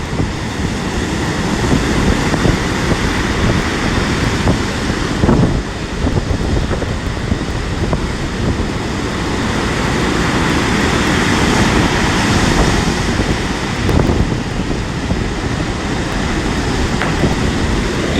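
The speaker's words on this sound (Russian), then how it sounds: "Просто дует сильный ветер, идет дождь, ну и море штормит." Storm wind and rain drive rough sea waves onto a pebble beach in Sochi, a loud, continuous roar of gusts and surf that barely changes throughout.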